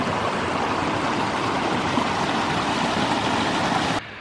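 A creek in the Smoky Mountains rushes steadily as a hiker crosses it, a continuous close, broadband wash of flowing water that cuts off abruptly near the end.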